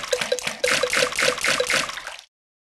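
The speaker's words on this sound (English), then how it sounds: "Peppa and George love splashing in the pool" Water splashing in a cartoon pool-race video game, a series of regular splashy bursts in a quick rhythm, near and clear, ending abruptly in silence.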